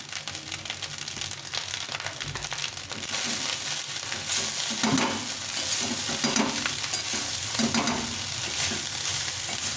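Fast-food style fried rice frying in a pan, with busy sizzling and repeated stirring and scraping of the spatula that grows louder in the second half, and no talk.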